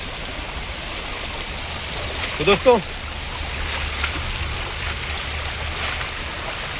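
Continuous rushing water from a small monsoon waterfall at Gai Mukh, Thane, Maharashtra, fills the background, steady and broadband, with someone talking over it briefly.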